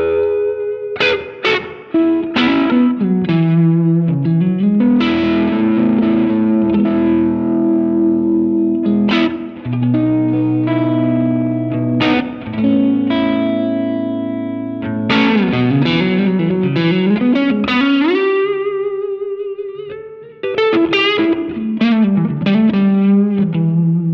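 Electric guitar played through an Electronic Audio Experiments Longsword distortion pedal, thick saturated chords and riffs with sustained ringing notes and short gaps, loud and alone with no talk.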